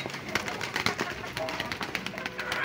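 Pigeons coo and rustle close by, a busy flock of soft calls with scattered flutters and light shuffling.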